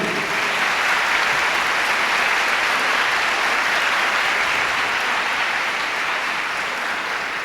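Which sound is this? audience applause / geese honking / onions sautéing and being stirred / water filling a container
audience applause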